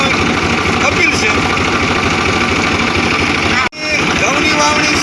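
A large tractor engine runs steadily at a field in Amreli, giving a continuous low rumble that drops out briefly near the end before resuming, with a voice talking over it.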